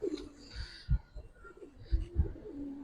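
A few soft, low coos from racing pigeons come in short throaty pulses, fairly quiet against a faint background.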